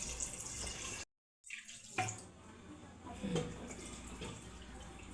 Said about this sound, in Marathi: अर्धा तांबे पाणी घाल त्याच्यामध्ये